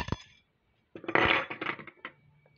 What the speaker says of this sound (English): a couple of these little puzzle ring things are always fun to take apart